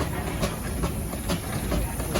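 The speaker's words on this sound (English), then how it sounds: "we have a 19 horsepower Port Huron Longfellow" A 19 horsepower Port Huron Longfellow steam traction engine runs at an Illinois steam and threshing show, its rhythmic chuffing exhaust beats repeating about every half second over a steady hiss and outdoor background.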